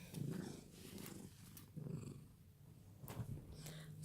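A cat purrs softly and steadily in a quiet room, its low rumble swelling and fading in slow rhythmic pulses with no voices over it.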